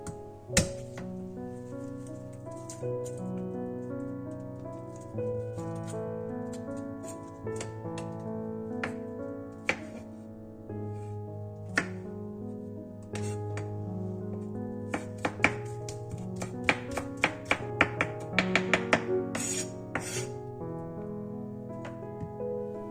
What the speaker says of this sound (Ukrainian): Часник, часник е, порізати дрібненько.